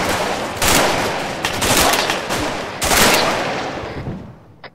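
Squad gunfire in a military shooter video game during combat training: dense, loud bursts of automatic rifle fire that come in several waves and trail off at the end, with no speech over them.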